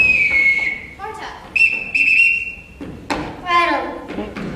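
Short, shrill signal whistles sounded one after another in varying pitched patterns to call children, each blast followed by footsteps and thuds of them arriving, close and loud.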